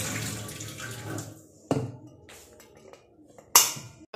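Hot water runs from a tap in brief gushing bursts, close and fairly loud, with a few sharp clatters and splashes between pauses.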